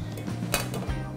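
A metal loose-bottom cake tin for a blueberry crumble cake is pulled down over a mug, giving a brief muffled metallic clink and scrape at close range.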